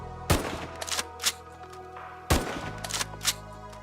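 A shrimp-skinned sniper tower fires in the Roblox game Tower Defense, with two loud, sharp gunshot blasts about two seconds apart, each followed by a ringing tail and lighter clicks under a steady game hum.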